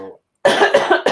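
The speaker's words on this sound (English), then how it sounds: "I'm trying not to cough too hard" A single person coughing, a short harsh burst of several rapid hacks up close after a brief pause, with no speech.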